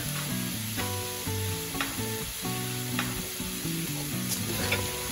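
Meatballs seasoned with black pepper and salt are stir-fried in a pan with continuous sizzling and stirring sounds, while music plays steadily underneath.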